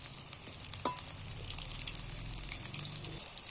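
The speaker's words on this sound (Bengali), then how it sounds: "এগুলো একটু লাল লাল করে ভাজতে হবে" Egg pieces sizzle and fry in a pan, a steady bright crackle with small pops and a brief clink of a utensil, close and continuous with no talking.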